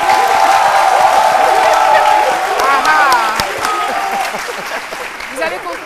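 Studio audience applause and cheering for a guest on a midday Senegalese TV show, steady and loud with crowd voices and whoops rising through it before tapering off.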